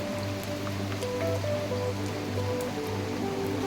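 Constant rainfall drums and splashes nearby, a thick wash of sound over a low steady hum, with no voices.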